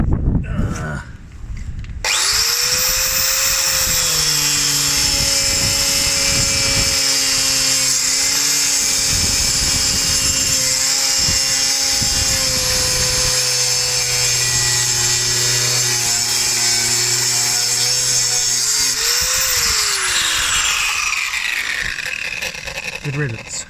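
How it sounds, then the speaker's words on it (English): An angle grinder cuts steadily through a seized anti-roll bar bolt on a Renault Twingo, a loud, sustained high-pitched whine with shifting tone lasting about twenty seconds before spinning down. "So I guess it's time to grind this entire thing off."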